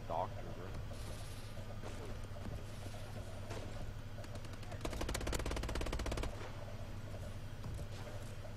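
Rapid automatic AK-12 rifle fire in Call of Duty: Advanced Warfare, a dense burst of gunshots peaking midway over steady game ambience, with a voice talking over parts of it.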